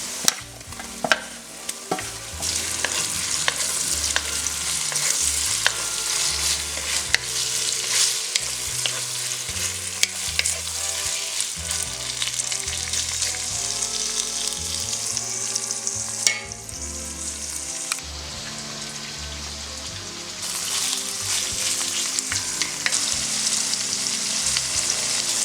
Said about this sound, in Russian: Добавляем мясо в казан.